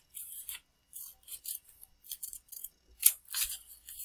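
Scissors snip through paper in a run of short, crisp cuts with brief pauses between them, close and fairly loud, while a paper chatterbox is being made; no voices are heard.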